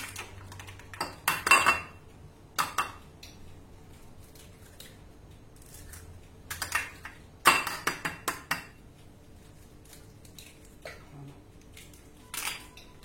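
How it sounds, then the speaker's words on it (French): Eggs cracked and dropped into a Thermomix TM5 bowl while making a crustless quiche: scattered clicks, taps and clinks in irregular bursts, close and moderately loud over a quiet room, without talk. "Il me dit d'insérer 3 œufs. Alors, je vais le faire."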